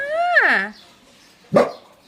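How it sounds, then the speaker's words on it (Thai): A dog gives a drawn-out, falling whine-like yelp and then one short, loud bark, both close by. "ทำเป็นเห่าพอแม่มาแล้วทำเป็นเห่า"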